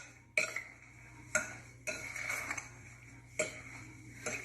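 A spoon scrapes and clinks against a bowl while strawberry rhubarb pie filling is stirred with cornstarch, a few sharp knocks separated by softer scraping, close and fairly quiet.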